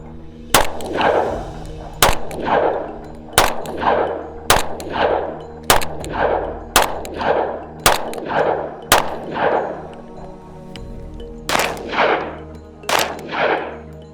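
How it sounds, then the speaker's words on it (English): A 10mm EAA Witness P10 Carry pistol fires about a dozen sharp, loud shots at a steady, unhurried pace, each crack trailing off into a ringing echo, with a short pause before the final pair. "first magazine through the EAA Witness P10 Carry"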